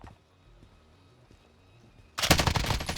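MP5 submachine gun fire in Call of Duty Warzone, a sudden loud sustained automatic burst cutting in after a quiet stretch of faint ambient sounds.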